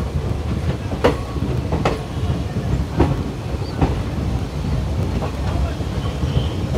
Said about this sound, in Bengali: এর সাথে সাথে আমাদের ট্রেন এখন প্রবেশ করছে ঝাঝা জংশনে।